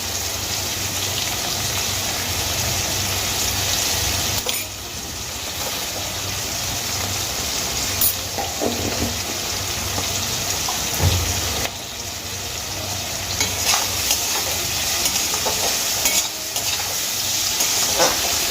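Whole cumin and other spices fry and get stirred in a pan, a steady close sizzle with scraping spatula strokes throughout and brief dips in the frying hiss.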